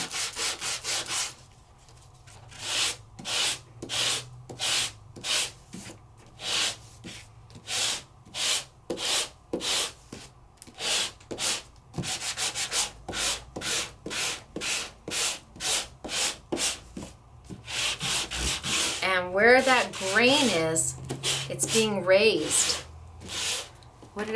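Repeated rhythmic rubbing strokes of sandpaper over a die-cut paper craft piece with a brown surface layer, close and steady, with a voice briefly heard near the end.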